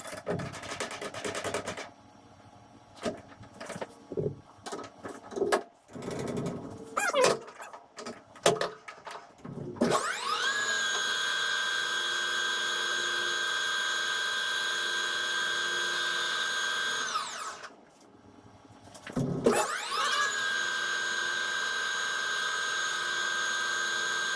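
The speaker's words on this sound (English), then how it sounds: "we can quickly face off that other end, clean it up" A metal lathe faces off the end of a small steel reamer bushing held in a 1/4 inch collet, its motor spinning up with a steady whine for several seconds, dropping briefly, then starting again after rattling handling noises.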